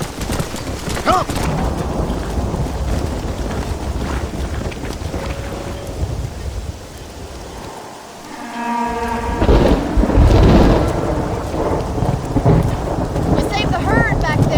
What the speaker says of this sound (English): I haven't seen a storm like this for a while.